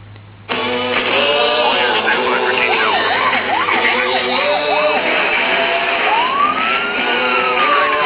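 Sirens wail from a police chase in the iPad racing game Need for Speed Hot Pursuit. After a short quiet start, loud rising-and-falling and sweeping tones play over a steady engine drone.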